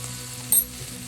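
Cooked green gram beans frying in a pan give a steady close sizzle, with one brief stirring scrape in the middle and no voices.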